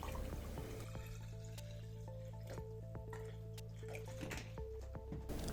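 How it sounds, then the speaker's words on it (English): Water pours steadily into a bottle in a continuous rushing stream, with a few small drips and splashes, while a melodic tune plays over the top. "I started by pouring the water in the bottle."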